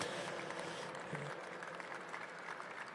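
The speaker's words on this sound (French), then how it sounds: "sous vos applaudissements" Audience applause for archer Mélanie Gobil as she is welcomed onstage at a Paris 2024 archery demonstration, a steady, dense wash of clapping that holds evenly through the whole stretch with no voices on top.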